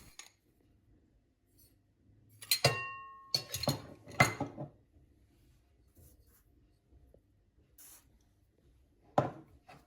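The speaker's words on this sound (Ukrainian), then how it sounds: "Розбиваємо одне яйце." A few sharp taps and clinks of an egg shell against a bowl, then a crack and a faint wet drop, with another knock later, while making pancake batter.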